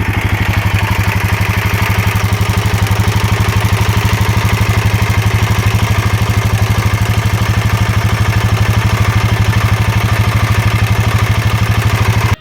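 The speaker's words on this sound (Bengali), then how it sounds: "ইঞ্জিন থেকে একটা নকিং সাউন্ড আসছে" Royal Enfield Himalayan 450 motorcycle idling steadily with a fast, even engine thrum and a persistent metallic ticking knock running through it, loud and close, with no voices.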